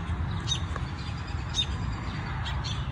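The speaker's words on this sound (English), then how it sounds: "All of his friends are chirping." Small birds chirp outdoors near a tree, a few short high tweets spaced apart over a steady low rumble of background noise, with no voices.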